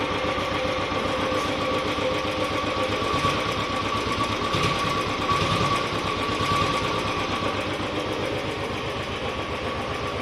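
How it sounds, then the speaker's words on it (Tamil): Royal Enfield Classic 350 motorcycle idles after a camshaft replacement, a steady close thumping single-cylinder beat with an even mechanical rhythm and no talk. "கேம்பில் மாற்றிட்டு நம்ம பார்த்திங்கன்னா இன்ஜின் நாய்ஸ் சுத்தமாகவே நாய்ஸ் இல்லை நம்ம வண்டியில்."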